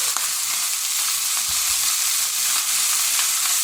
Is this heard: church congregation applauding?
no